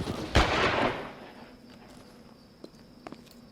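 A single sharp gunshot in the video game L.A. Noire bursts loudly, followed by a fading rumble and a few faint clicks and taps.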